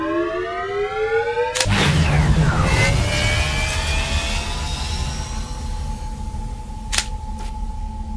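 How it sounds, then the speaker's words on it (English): A mech's engine powers on in the video game Overheat: Mech Warzone: rising synthetic tones give way to a loud, steady mechanical drone, with a couple of sharp clicks near the end. "Engine powering on."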